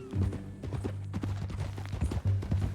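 Horse hooves clip-clop in a steady walking rhythm in Red Dead Redemption 2, fairly close and clear over a low ambient hum, with no talk.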